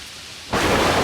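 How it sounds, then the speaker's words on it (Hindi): A sudden loud thunder clap in an animated bird story bursts in halfway through after near silence, then sustains as a dense, roaring rumble to the end. "आसमान में तेज बिजली चमकी और जोरदार गरजने की आवाज आई"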